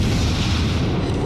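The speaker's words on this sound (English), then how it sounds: "He is returning fire." Booming naval gunfire from an enemy warship in World of Warships, heard as a dense, steady low rumble of distant cannon fire with no talking.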